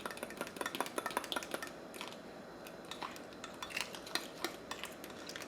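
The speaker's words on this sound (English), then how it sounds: "Oh look, that's just thick enough, just stirring it." A utensil scrapes and clinks against a pot in quick irregular strokes, close up, stirring thick gravy; no talking.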